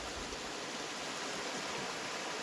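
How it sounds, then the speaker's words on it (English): Steady rushing of creek water flowing over rocks, a continuous broadband wash filling the scene with no voices. "Another creek crossing."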